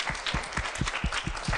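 A studio audience at a debate show claps, with heavy, evenly spaced beats standing out from a dense background of many hands applauding briefly.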